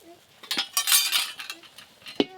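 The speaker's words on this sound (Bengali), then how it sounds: "আজকে যা বড় বড় বেগুনের সাইজ আছে তার জন্য এই যে বড় কড়াটা নিলাম" A large frying wok (kadai), readied for frying big eggplant fritters, is handled with clinks and metallic knocks, a run of uneven close clatters with one sharp bang near the end, and some voice underneath.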